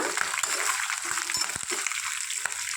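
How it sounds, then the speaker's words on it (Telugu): Green chillies frying in hot oil for pulihora, a steady close sizzle with occasional stirring taps, no voice over it. "ఇప్పుడు మన ముందుగా పచ్చిమిర్చి వేసుకుందాం ఇది ఫ్రై అయ్యాక"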